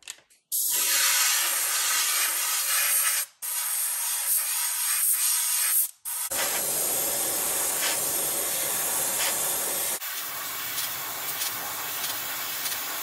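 Bursts of white top coat paint spraying onto a handmade popper topwater fishing lure, a loud steady hiss in three long passes separated by brief pauses, close and with no voices.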